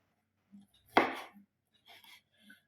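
One sharp knife chop on onion cuts against a cutting board, followed by a few faint taps and soft kitchen handling noises in a quiet room.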